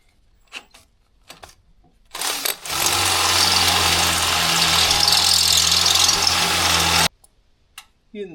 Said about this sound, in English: Now we just gotta pop some holes so it'll hook to the winch tray.